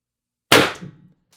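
A single sharp report from an IntruBuster G2 launcher firing an ART 8g S Type round cracks out of silence, then a short ringing, bouncing tail fades in an indoor space, with a faint tick just after.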